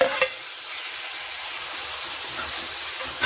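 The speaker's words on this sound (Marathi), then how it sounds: "कांदा थोडासा फ्राय होत आला की त्यामध्ये टाकून घेऊया 2 मोठे टोमॅटो बारीक चिरून" Chopped tomatoes dropped into frying onions set off a sudden loud burst of sizzle and steam. The burst eases into a steady, close hiss.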